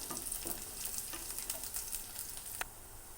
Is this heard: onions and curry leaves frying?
yes